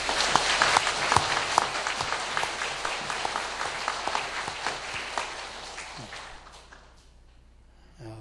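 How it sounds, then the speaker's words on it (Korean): A church congregation applauds in thanks, a dense, fairly loud wash of clapping that thins out and fades toward the end, with a few breaths and stirrings heard as it dies away. "감사의 박수 드리겠습니다."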